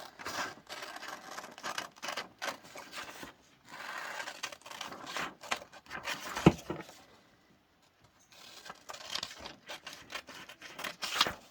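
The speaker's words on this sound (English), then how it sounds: "the first thing we're going to do is we're going to cut out our pattern piece" Scissors snip through felt to cut out a pattern piece for a party-hat cat toy, sounding as a run of close, crisp cutting bursts with one short quiet gap midway.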